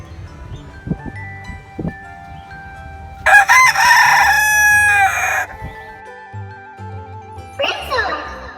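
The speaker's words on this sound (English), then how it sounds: "Very talkative roosters sometimes crow at nighttime." Roosters crowing, including a frizzle rooster: one long, loud, strained crow in the middle and a second shorter crow near the end, with a few clucks and low calls in between.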